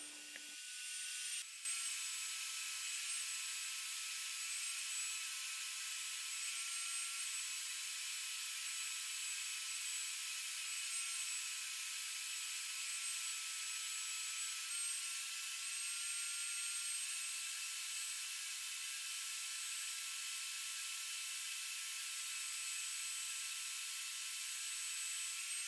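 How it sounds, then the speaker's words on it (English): An HVLP spray gun hisses continuously up close while spraying finish on a bookcase, after a brief click at the start, a steady high airy spray lasting the whole time. "I'm just going to spray 2 light coats with an HVL spray gun"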